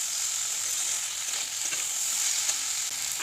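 Flat bean vegetable curry with spices is stir-fried in a pan, producing a steady, bright sizzling hiss with faint scraping. A sharper crackle comes at the very end, and no one talks.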